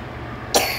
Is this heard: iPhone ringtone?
no